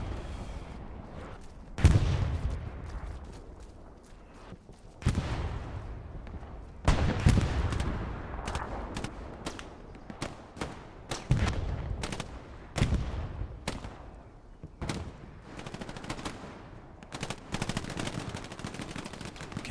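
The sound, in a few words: artillery fire in a multiplayer war video game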